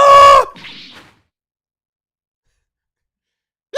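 The hawk Taka in an Ace Attorney game gives a short, loud, piercing screech, followed by a softer rasp and then silence.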